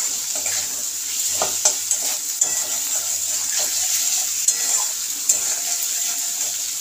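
Spice paste for a hilsa fish curry with potato and eggplant sautés in a pan with a steady close hiss, while a spatula scrapes and taps in scattered sharp clicks.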